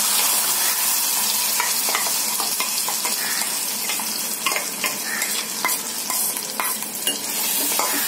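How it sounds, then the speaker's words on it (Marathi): Loud, continuous sizzling as a ground spice paste sautés in hot oil for raw mango curry, with repeated scraping strokes of a spoon stirring the pan. "वाटण चांगलं परतून घ्यायचं तेलामध्ये"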